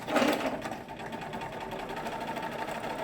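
A 25-year-old sewing machine runs steadily, stitching fabric for a cloth diaper cover, its close, continuous mechanical whir and rapid needle rhythm holding for about three seconds with no talk.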